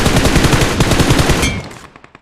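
Rapid automatic gunfire from BGMI (Battlegrounds Mobile India) gameplay, a loud, dense burst of shots lasting about a second and a half, then a few fading, scattered pops as it tails off.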